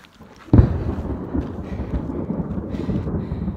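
A sudden crack of thunder breaks out on a mountain trail, then rolls into a long deep rumble, loud and close, with steady rain-like noise and hail underneath.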